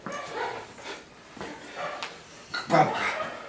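Babka, a dog in crate training, gives short whimpers and yips at intervals over about three and a half seconds, with a louder cry near the end, close by and alone.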